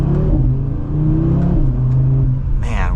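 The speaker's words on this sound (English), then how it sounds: "we're still running in the engine, so I'm not going to be redlining it just yet" 2024 Audi RS3 engine pulling under acceleration while driving, a loud, steady, rising engine drone heard from inside the car, with a brief burst of higher whooshing noise at the end.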